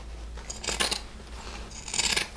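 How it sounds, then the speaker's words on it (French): Pinking shears snip through surplus fabric around sewn seams in two quick bursts of crisp, close cutting crunches separated by a brief quiet gap. "je vais prendre mes ciseaux cranteurs et je vais enlever le surplus de tissu là où j'ai cousu seulement"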